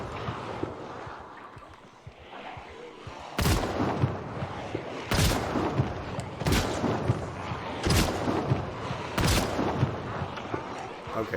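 Shotgun blasts against a zombie horde in Project Zomboid, five loud sharp booms spaced about a second apart over a rumbling, noisy background, after a quieter lead-in.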